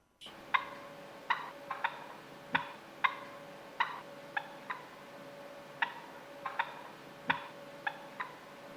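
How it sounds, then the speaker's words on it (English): Wild young male turkeys calling to flock mates, giving a string of sharp, evenly spaced putts and clucks at moderate distance over a quiet, steady outdoor background. "I did manage to capture a few jakes this past spring that were making this call"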